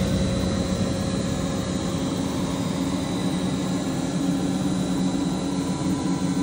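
A milling machine takes a finishing cut at higher spindle speed and slower table feed, refacing a Mercury Verado outboard crankcase cap; a loud, continuous, even machine drone with steady tonal whine and no pauses.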